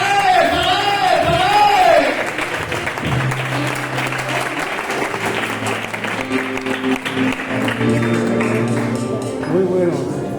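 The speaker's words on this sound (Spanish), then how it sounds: "dame un aplauso para el Señor" A church congregation claps together during a Tuesday worship service, a loud sustained burst of applause with a preacher's voice and crowd noise carrying over it.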